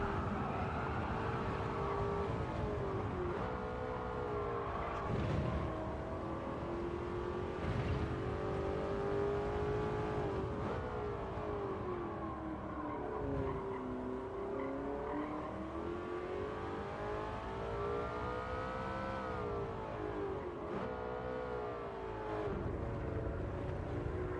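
Race car engine in Gran Turismo 7 during a time trial, droning steadily throughout with pitch rising and falling as the throttle is applied and eased through corners, loud and continuous with no talk over it.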